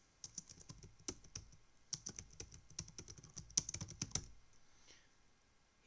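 Fast, irregular clatter of keys on a computer keyboard while editing text, close and fairly quiet, with bursts of keystrokes and a few pauses, ending in a brief lull and a soft final tap.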